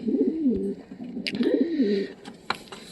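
A satin pigeon coos close by, two soft rolling low coos in quick succession with a few light clicks and rustles between them, no talking.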